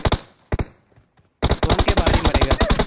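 Gunfire in the PUBG Mobile video game: a couple of isolated loud shots, a short pause, then a long rapid automatic burst of sharp cracks, close and dominant, with no talk over it.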